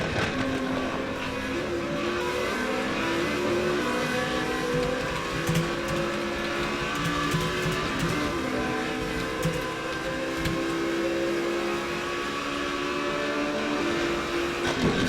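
Formula V8 race cars howl down the main straight at the Circuit de Catalunya, with sustained high-pitched engine notes that rise and shift as the cars pass and jostle, a steady loud racing drone.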